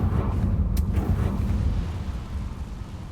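A Confringo fire spell blasts in Hogwarts Legacy, giving a loud, low rumbling explosion with a brief sharp crackle early on, then a sustained roar that slowly fades.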